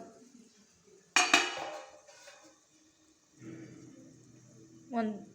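A metal lid clangs sharply onto a pot of drumstick vegetable curry, one bright ringing clatter followed by faint kitchen clinks, with a person speaking softly afterward.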